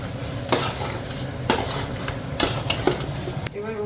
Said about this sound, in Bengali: যেমনি মা ডেচকির ঢাকনা তুলে একবার ভালো করে আবার নাড়িয়ে দিল